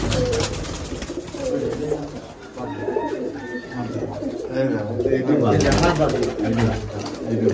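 Black-splashed Giribaj pigeons, kept in an enclosed room, coo in low repeated throaty rolls, several birds overlapping close by under a steady murmur of background noise and voices.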